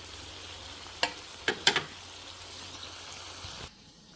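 Pinakbet vegetables sizzle and fry in a pan at home, a steady soft crackle broken by a few sharp clatters of stirring before the sizzle suddenly drops away.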